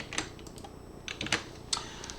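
Short bursts of keystrokes on a computer keyboard as commands are typed, an irregular run of close, quiet clicks with no talking.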